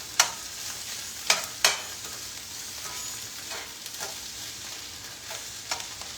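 Eggs frying in a pan on a stovetop, a steady close sizzle broken by a few sharp crackles and pops, with no talking.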